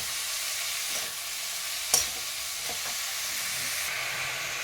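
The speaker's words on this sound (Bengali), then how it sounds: "ভালো করে মোচার সাথে মশলাটাকে কষিয়ে নেব" Boiled banana flower fried with spices in a pan, a steady bright hissing sizzle with a few scraping stirs, one sharper clank near the middle.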